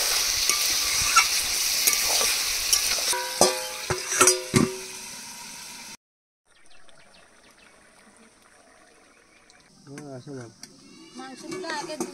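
Poultry chicken pieces with whole garlic frying and being stirred in a pan, sizzling with scraping stirs and clinks for about six seconds, then a quiet pause and softer bubbling sizzle with occasional scrapes.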